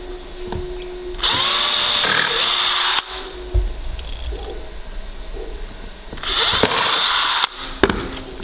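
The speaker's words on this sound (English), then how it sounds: "drill a bit into the table" Two bursts of a power drill whining as it bores into a wooden table, each lasting about a second or two, with handling knocks in between.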